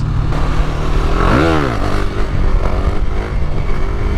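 A KTM Duke 390 motorcycle accelerates hard in third gear, its engine note sweeping sharply upward around the middle before settling into a loud, steady roar with rushing wind, close and without talk.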